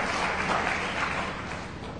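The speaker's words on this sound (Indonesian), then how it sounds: "Ya tepuk tangan lagi, itu dahsyat saudara." An audience at an Indonesian church sermon bursts into sustained applause, a dense wash of clapping that stays loud and even before easing slightly toward the end.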